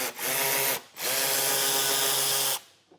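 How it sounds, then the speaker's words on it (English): A power tool with a 7mm socket spinning out a bolt while a Curt T-connector wiring harness is installed on a 2022 Chevrolet: two close, loud whirring bursts, a short one followed by a longer one. "We're going to take that same 7mm and we're going to remove this bolt here."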